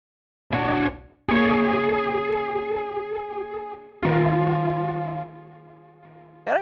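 A loud, buzzing distorted synth in Reason 12 plays sustained notes in three bursts separated by brief gaps, gritty and harmonically rich with a slight echo.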